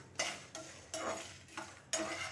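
Fenugreek, coriander seeds, cumin and black pepper dry-roast in a pan, with a spoon scraping and stirring in four or five short rhythmic strokes, quiet and close with a faint sizzle.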